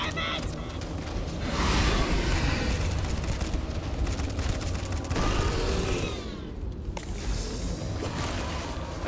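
Sustained weapon fire in the sci-fi game Starfield, a loud rapid stream of shots with mechanical clatter and whooshes, a brief lull and then more firing.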